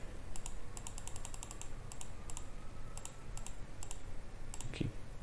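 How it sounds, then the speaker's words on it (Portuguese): Computer keyboard keys are tapped in quick clusters of light clicks, with short pauses between runs, over a low steady background hum. "Eu tava usando o teclado."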